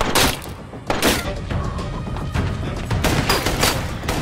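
Rapid bursts of film gunfire crack out in clusters, loud and close, with heavy thuds and echoing booms between volleys.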